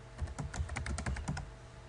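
Keys on a computer keyboard being typed by hand to enter a short label, a quick close-up burst of about a dozen clicking keystrokes that stops abruptly, with no talking.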